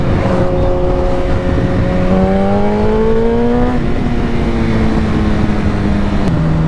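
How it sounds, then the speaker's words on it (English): A sport motorcycle engine revving as the throttle is repeatedly opened and closed, steady loud drone with pitch rising and falling between blips, close by while riding. "I cannot stop going on and off the throttle."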